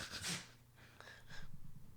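A single quick sneeze, soft and close, bursting out at the start and trailing into a faint breathy snort and breathing.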